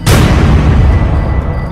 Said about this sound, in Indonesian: ban motor itu meledak dengan sendirinya